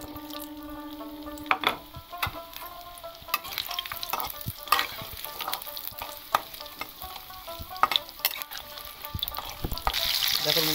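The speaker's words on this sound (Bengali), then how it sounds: "আমি এবারে দিয়ে দেবো ওর মধ্যে সরষের তেল। এই তেলটা গরম হতে হতে তখন আমার তেলটা গরম হয়ে গেছে, আমি আলুগুলো এবার ভেজে নেব।" Potatoes fry in hot mustard oil in a wok with a continuous crackling sizzle and frequent scraping clicks of a spatula stirring. A faint tonal hum sits underneath early on.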